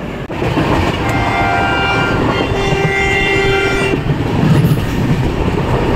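Interior of the Garib Rath Express AC train running from Kolkata to Guwahati: a constant loud rumble and rattle of the carriage, with a faint horn-like tone partway through and no talking.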